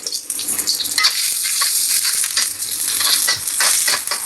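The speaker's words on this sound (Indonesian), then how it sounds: "Tumis bawang putih, bawang bombay." Garlic and onion sautéing in a pan give a steady, close hiss of frying, with scattered crackles and spatula scrapes running through the whole stretch and no talking.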